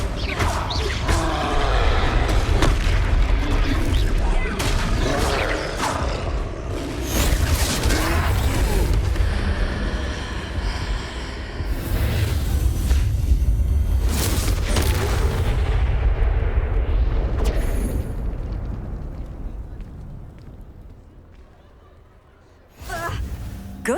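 Confringo fire-blast spell bursting repeatedly in the Hogwarts Legacy game during a troll fight, loud booming crashes and rumbling impacts filling most of the stretch before a brief lull and a final hit.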